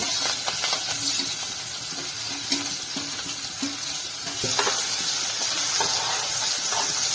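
Onions sizzle and hiss steadily in hot oil with curry leaves and green chillies for Maharashtrian kanda pohe, a loud, close, continuous frying crackle with occasional stirring clicks.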